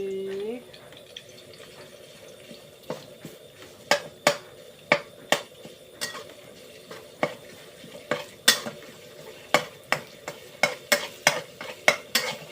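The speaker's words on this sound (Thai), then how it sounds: "ขัวพริกแกงให้หอมครับผม" Rhythmic scraping and tapping of a metal utensil against a wok stir-frying curry paste for catfish and pickled bamboo shoot curry, repeated strokes over a soft sizzle, growing busier toward the end.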